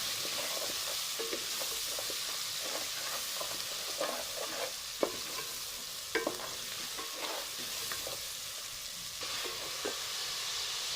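Half a spoon of finely ground coriander gets stirred into sizzling masala in a pan; a soft, constant frying hiss with occasional faint scrapes and taps of the spoon, no talking.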